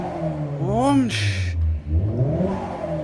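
A car engine revs nearby, its pitch sweeping up and falling back in a clear rise, then settling into a lower hum while someone talks.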